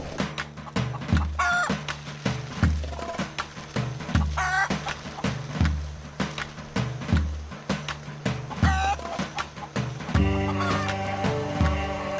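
Chickens cackle repeatedly in loud, uneven bursts on a hillside farm where banana trees are being planted, with a sustained clucking run near the end and no talking.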